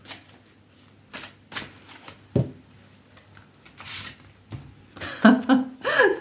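Tarot cards are riffled and shuffled in quick bursts of crisp flutters, close by, with brief quiet gaps between.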